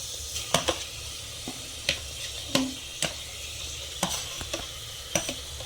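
Tomatoes for biryani fry in a pot with a low, steady sizzle, while a spoon scrapes and taps against the metal at irregular moments, close and fairly quiet.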